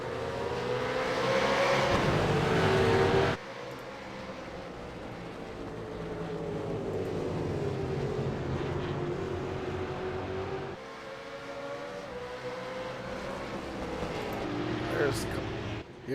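RUF supercars racing at Mosport, engines droning and rising in pitch as the field gets underway, a steady rolling roar with an abrupt cut early on, heard under a commentator's voice.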